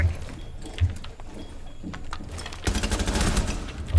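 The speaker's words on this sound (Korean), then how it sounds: "총소리랑 겹쳐서 못 들었다" Rapid bursts of video game gunfire crackle through a busy, noisy mix, with a heavier stretch of sustained shooting toward the end.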